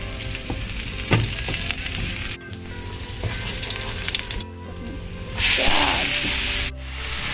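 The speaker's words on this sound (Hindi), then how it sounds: "पैन में हम थोड़ा सा ऑयल डालेंगे और डालेंगे जीरा। नेक्स्ट हमारा लहसुन," Cumin seeds and garlic sizzle in hot oil in a pan, a steady close crackling fry with bursts of stirring and spattering, and no one talking.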